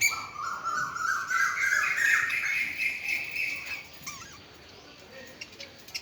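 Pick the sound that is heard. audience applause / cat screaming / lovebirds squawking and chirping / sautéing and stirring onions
lovebirds squawking and chirping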